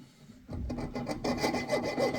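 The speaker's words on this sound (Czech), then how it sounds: "Trošku tupá ta pilka." A slightly dull hand saw cuts through metal while a habaki is being made, giving a rough, rhythmic rasping of repeated strokes that starts abruptly and stays close and fairly loud.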